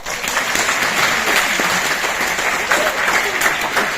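A theatre audience at Ravindra Kalakshetra in Bengaluru claps steadily for a Yayati play, a dense, continuous wash of many hands close by with no break, and a few voices mixed faintly into the noise.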